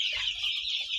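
Backyard poultry chickens cluck and chatter continuously at close range, a dense flock sound with no talk over it.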